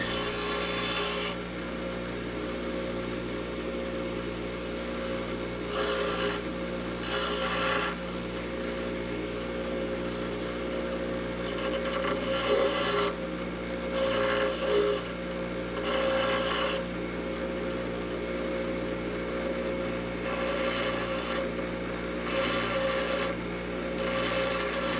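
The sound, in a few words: filing, deburring and tapering bolt lead-in threads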